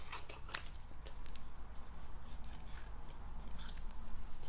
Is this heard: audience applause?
no